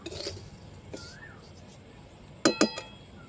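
A utensil stirs flat beans and sugar in a pan, giving a few soft scrapes and then a quick burst of sharp metallic clinks near the end.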